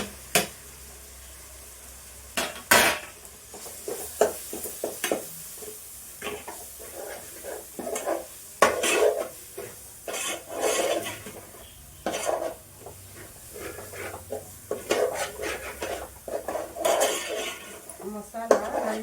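A spoon scraping and clanking against a cooking pot while stirring masala, irregular metallic knocks and scrapes over a soft sizzle, close, with someone speaking at times.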